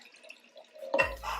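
Warm raw milk is poured from a glass pitcher into glass mason jars, a brief liquid splash and trickle that starts abruptly near the end after quiet, heard close with no talk.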